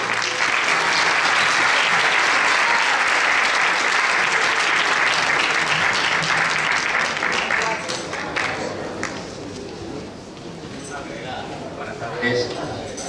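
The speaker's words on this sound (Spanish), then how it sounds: "un fuerte aplauso para el grupo Hierbabuena" Audience at a Christmas concert in Loranca applauds the senior citizens' group Hierbabuena, loud sustained clapping from a crowd that fades after several seconds into murmuring and scattered voices.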